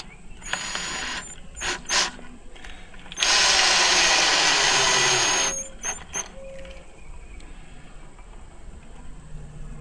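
A power drill drives screws through a security plate to hold it in place: a few short whirring bursts and ratchety clicks, then one sustained, loud run of about two seconds, followed by quieter handling noises.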